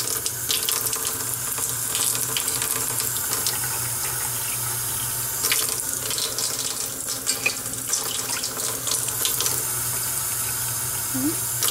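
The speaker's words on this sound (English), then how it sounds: "we're gonna take our measuring cup and we're gonna go ahead and fill that up with some water." Tap water runs steadily into a measuring cup in a home kitchen while warm water is measured out for bread dough, a continuous splashing stream with a few louder bursts partway through.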